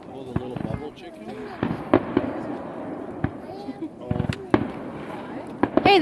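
Fireworks at a backyard display go off in repeated sharp bangs and crackling pops, some clustered and some spaced apart, at moderate distance, with people chatting throughout.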